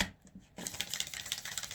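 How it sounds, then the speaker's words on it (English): A tarot card deck shuffled by hand, a quick rapid riffle of crisp flutters following a brief quieter shuffle, close and clear. "I got to do at least one more shuffle for you"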